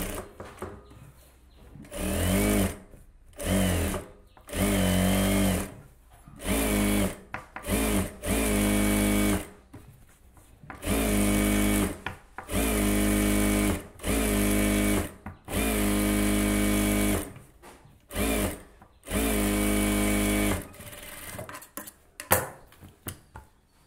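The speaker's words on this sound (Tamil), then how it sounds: "இப்போ இதில் சுற்றி ஒரு 1/4 இன்ச் விட்டு தையல் போட்டுக்கலாம்." A sewing machine stitching a quarter-inch seam around a silk cotton saree blouse piece runs in about a dozen loud, close bursts of rapid whirring, each lasting a second or two, separated by short pauses.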